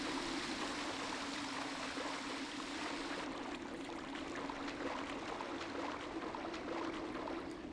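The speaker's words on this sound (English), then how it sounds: "It's quite the water sound." Flowing water in the stealth game Thief Gold rushes steadily as a broad, even stream, soft and continuous with no talk over it.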